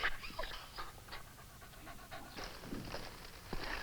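An injured dog with a gunshot wound pants in quick, rhythmic breaths, close and fairly quiet, in an old radio western drama.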